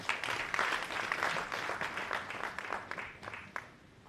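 An audience applauds at a formal labour ministry event welcoming an International Organization for Migration representative; dense clapping that thins out and fades toward the end.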